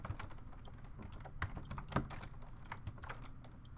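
Typing an expression on a computer keyboard while working in After Effects, a steady run of close, crisp key clicks with a few heavier strokes, and no talking.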